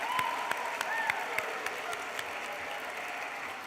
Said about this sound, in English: make the most amount of noise through a round of applause, cheering, whooping, whatever you like